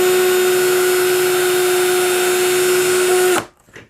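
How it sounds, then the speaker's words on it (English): A power drill runs steadily while boring a hole into a wooden board, a loud continuous whine with a strong steady pitch lasting about three and a half seconds, then cutting off abruptly into quiet, with a faint trailing sound. "Now I'll come back and I'll just drill the hole in here little ways"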